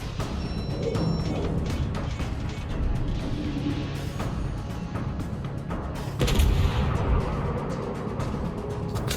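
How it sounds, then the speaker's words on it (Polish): Front guns of a German Agir cruiser firing shells in World of Warships, a run of heavy booming shots over constant engine and sea rumble, with a big blast near the end. "wystrzał pocisków z przednich dział"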